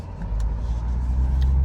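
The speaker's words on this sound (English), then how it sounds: "I'm gonna put it in track mode. This kind of increases the tone of the exhaust" A Corvette's exhaust in track mode while driving, a steady deep engine rumble and road drone close by with no breaks, no talk.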